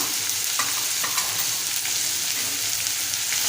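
Spices such as turmeric, Malvani masala and garam masala are stirred into spicy cucumber bhaji in a pan, a steady close sizzle with soft scraping strokes of a spoon repeating every second or so.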